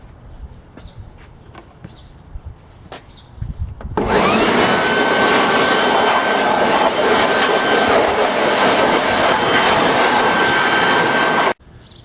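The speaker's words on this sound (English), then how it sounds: "So I'm going to just blow this engine" Quiet clicks and rustling give way to a loud, steady rush of compressed air blowing off a Mercedes-Benz C280 Sport engine, unbroken for several seconds, then cut off abruptly.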